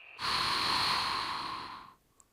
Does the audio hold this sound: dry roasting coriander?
no